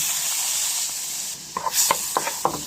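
Garlic and onion sizzle in hot oil in a pan, a steady soft hiss that runs the whole time, with a few short stirring clicks and scrapes near the end.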